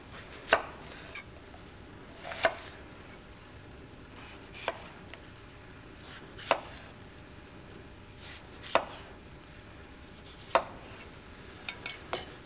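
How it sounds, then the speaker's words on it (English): A knife slicing the side off a red pepper, with crisp, separate chops against a cutting board every second or two, about nine strikes in all, close and clear over a quiet room. "Cut the side off a red pepper."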